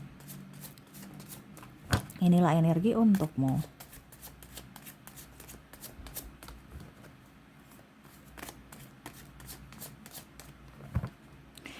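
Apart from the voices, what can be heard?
shuffling tarot cards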